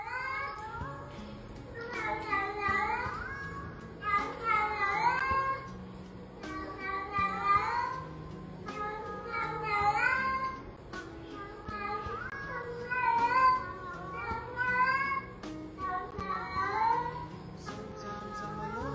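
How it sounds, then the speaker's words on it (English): Petunia the cat meows repeatedly in long, rising and falling phrases that follow a song playing underneath. "Petunia the cat is singing her favorite song along with her idol"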